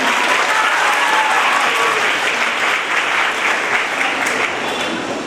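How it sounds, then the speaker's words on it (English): A crowd claps for a graduating batch of second PUC students at an academy felicitation ceremony, sustained and loud applause from many people that holds steady throughout and eases only slightly at the close. "A big round of applause to you all."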